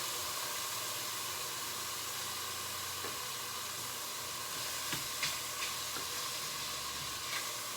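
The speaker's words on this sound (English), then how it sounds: "And then I'm going to add the cauliflower rice." Cauliflower rice cooks in a hot pan with a strong, steady sizzle and hiss that fills the whole stretch. Occasional scrapes and clicks come from stirring.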